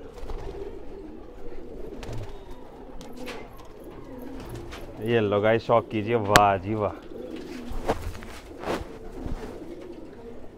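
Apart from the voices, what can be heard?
pigeons cooing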